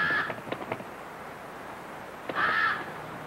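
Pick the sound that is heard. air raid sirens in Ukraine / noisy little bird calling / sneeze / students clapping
noisy little bird calling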